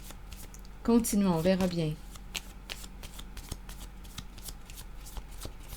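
Playing cards are cut and shuffled with quick papery riffles and taps, close and fairly soft, while a voice speaks briefly over the start.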